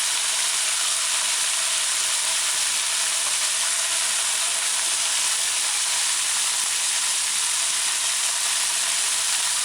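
Fish fillet tips deep frying in hot oil, a dense, unbroken hiss of bubbling oil that stays even and loud throughout with no pauses or voices.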